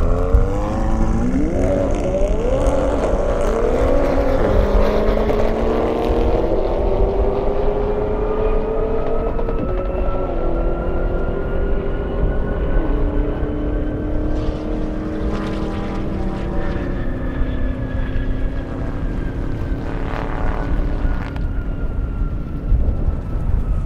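A Lamborghini Urus and a McLaren 720S racing down an airstrip, engines roaring loudly and continuously with rising, shifting pitch as they accelerate past.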